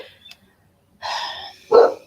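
A dog barks at someone passing by the house, giving a brief sound near the start and then two loud, close barks about a second apart.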